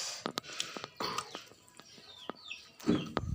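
A chicken clucks in a village kitchen yard, several short close clucks and calls in irregular bursts against a quiet background.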